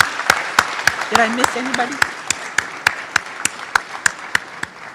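Sparse, scattered clapping from an audience at a pharmacy white coat ceremony, individual claps spaced fairly evenly and not a full ovation, with a voice speaking briefly over it.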